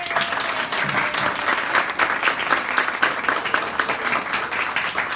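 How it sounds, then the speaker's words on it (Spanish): A theatre audience in Costa Rica claps steadily after a press conference, a continuous, full round of applause with no break. "un fuerte aplauso"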